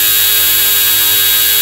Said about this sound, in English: Full throttle. Oh, isn't that a nice hum?